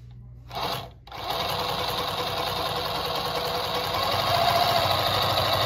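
A Consew 146RB zig-zag industrial sewing machine, unoiled, runs with a steady mechanical whir and motor hum after a brief pause near the start, growing slightly louder toward the end with no talk over it.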